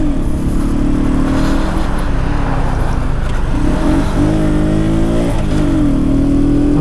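Cold motorbike engine idling and revving, loud and close, a continuous rumbling drone that swells in pitch with each rev.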